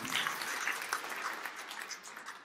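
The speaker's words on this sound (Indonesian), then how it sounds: "Tepuk tangan yang meriah untuk kemuliaan nama Tuhan." Applause from a congregation during a Christmas church service, a soft, steady patter of many hands that sounds fairly distant and gradually fades over a couple of seconds.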